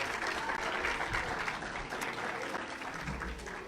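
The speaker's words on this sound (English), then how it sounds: "Give yourselves a round of applause," Steady applause from an audience at a debutante ball, dense and sustained throughout with no break, muffled crowd noise underneath.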